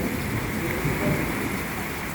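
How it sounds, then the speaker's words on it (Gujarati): Rain falling steadily in a village during an unseasonal thunderstorm, a dense, even wash of drops close by with no distinct thunder crack, continuous and moderately loud throughout. "વરસાદના છાંટા એમના મધ્યમ ચાલુ છે"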